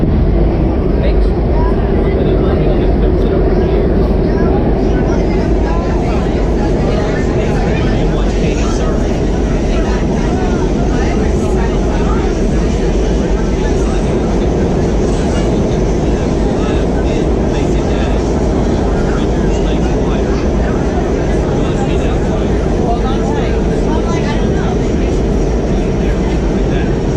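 A steady, loud roar from inside WMATA Kawasaki 7219, a Metro train riding on the Red Line, fills the whole stretch with constant rumble and rattle and no break.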